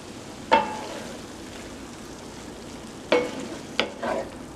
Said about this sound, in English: I'll add my tomatoes. And a whole bunch of basil.